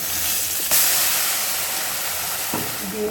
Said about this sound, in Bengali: এই যে টমেটো পেঁয়াজ আদা রসুন দিয়ে একটা পেস্ট বানিয়েছি এটা এখন তেলের মধ্যে দিয়ে দেবো